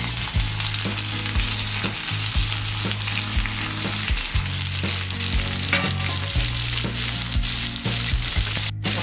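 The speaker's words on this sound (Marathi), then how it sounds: "आपल्या सर्व भाज्या टाकून घ्यायच्या आहेत" Vegetables for a veg frankie sizzle and fry steadily in a hot pan, with occasional utensil taps and stirring scrapes over a continuous loud crackle and no voices.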